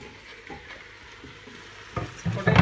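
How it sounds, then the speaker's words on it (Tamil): Potato pieces are stirred while they sauté in a pan for a butter bean and potato masala. A soft sizzle runs under scraping stirs that build into louder clatters near the end. "இந்த சைஸில் பொட்டேட்டோவை கட் பண்ணிவிட்டு இதையும் நம்ம போட்டு வதக்கலாம்."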